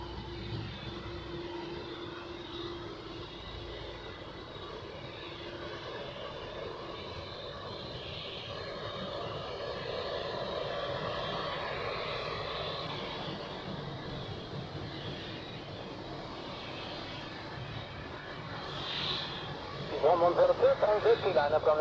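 Airliners roar at Zurich Airport on a Monday morning of plane spotting, a sustained jet engine rumble rising and falling at a distance with voices talking over it and a louder burst at the end.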